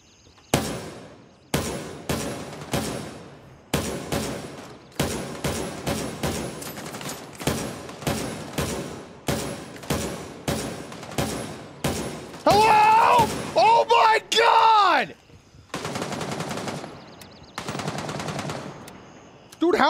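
Rapid bursts of automatic gunfire in the Gray Zone video game, loud and close, repeating in dense volleys for most of the stretch, with a voice breaking in briefly partway through.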